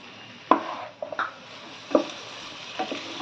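Green peas tipped into a pan of sago khichdi with fried beans and carrot, giving a few brief close clatters and stirring scrapes over a low, steady sizzle.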